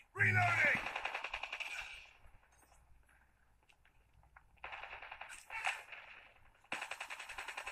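Rapid automatic gunfire from Call of Duty Mobile, played on a Realme 5 phone, comes in two long rattling bursts and a shorter one between them, with quieter game noise in the gaps.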